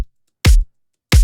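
Two punchy kick drum hits layered with a snare sample, each a loud, short thump with a bright snare crack, separated by silence, with no talking.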